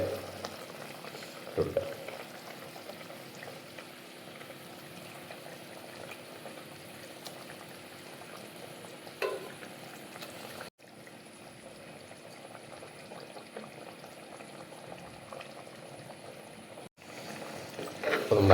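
Masala curry bubbles in a pan with mackerel added, a steady soft simmer and sizzle with a few brief clatters. A voice speaks briefly.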